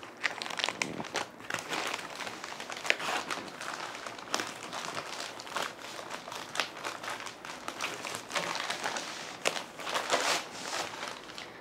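Plastic and foam wrapping crinkles and crunches close up as a parcel of secondhand books is unpacked, with constant irregular rustling and no talking.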